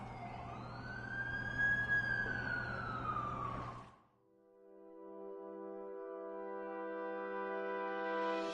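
An ambulance siren in the Amazing Spider-Man 2 video game wails loudly in a rising and falling sweep. It cuts off abruptly halfway through, and a steady layered horn-like tone follows and fades up.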